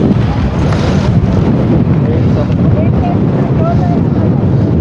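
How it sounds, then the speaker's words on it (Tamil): Strong wind gusts across a hilltop on the Kondarangi hills, loud and steady broadband rushing and buffeting against the microphone throughout, with no clear speech. "காற்று எவ்வளோ ஸ்பீடாக அடிக்குது பாருங்க."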